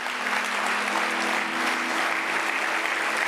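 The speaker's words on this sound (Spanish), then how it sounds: "Si alguien lo cree, le puede dar un aplauso" A church congregation claps together in a dense, steady round of applause that fills the room from start to finish.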